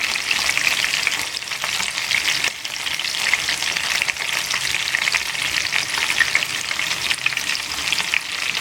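Chicken sticks fry in a pan with a loud, steady sizzle of hot oil that runs unbroken and close throughout, with no talk over it.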